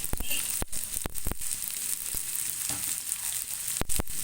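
Green chillies fry in hot oil, a light sizzle broken by several sharp crackles and pops, close by with no talk.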